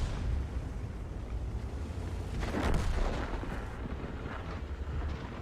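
Tank cannon fire in the World of Tanks game, tier 6 skirmish, rumbles as a low continuous din with one heavier blast swelling midway, distant and moderately loud over steady background noise.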